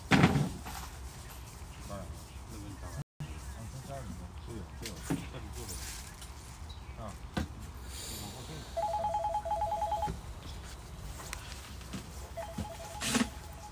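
A mobile phone rings in two short electronic bursts on a busy farm during a live reality show. The rings come through amid nearby voices, clatter and a door-like knock.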